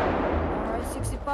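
Gunfire in a GTA 5 roleplay game session, a dense rumbling burst of shots up close that fills the clip, with a brief higher crackle near the end.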